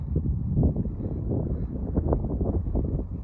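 Wind gusting across the top of Grassy Pass in the Rawah Wilderness at 11,274 feet, a low buffeting rumble against the microphone that swells and eases without pause.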